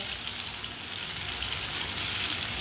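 Potato pakoras frying in hot oil, a dense, even crackling sizzle filling the space, close and constant without pauses or voices.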